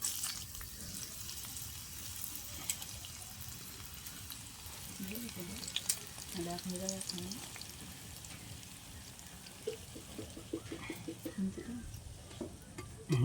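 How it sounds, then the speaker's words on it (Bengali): Green chilies hit hot oil in a pan, giving a low steady sizzle with scattered spatter crackles and stirring scrapes, while a voice talks over it. "গরম তেলে লঙ্কা ছেড়ে দেবো"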